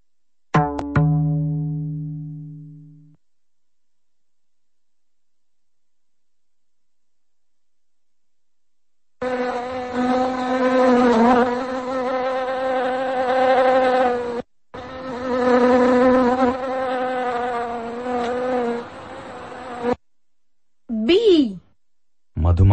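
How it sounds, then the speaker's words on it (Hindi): A bee buzzes in loud, sustained bursts, a wavering drone that cuts out and returns several times, with a brief tonal sound at the start and a short gap of silence before the buzzing begins. "Bee. मधुमक्खी।"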